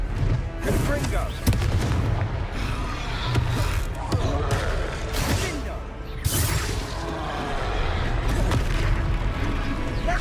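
Confringo fire spell blasts in Hogwarts Legacy, a string of loud booming impacts over continuous battle noise, with voices calling out now and then.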